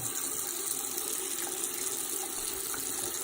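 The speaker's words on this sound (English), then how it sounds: "And we're gonna run the hot water, okay?" Hot water runs steadily from a tap, a continuous hissing gush with no pauses and no voices.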